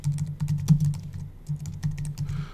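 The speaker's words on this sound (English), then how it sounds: "it sounds like I'm pounding on my keyboard" Rapid keyboard typing, irregular clacking keystrokes in quick bursts, close to the microphone with a low hum underneath.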